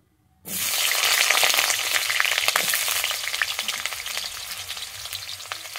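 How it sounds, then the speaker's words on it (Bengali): Cut potatoes sizzling loudly in hot oil in a wok, a dense steady crackle that bursts in abruptly and keeps spitting with sharp pops throughout, close and alone. "আমি আলুটাকে ভেজে নিচ্ছি"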